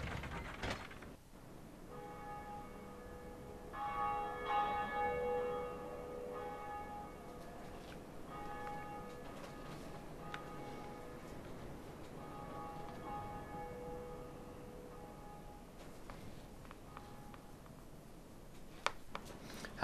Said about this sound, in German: Wir haben doch erst eine Glocke geläutet.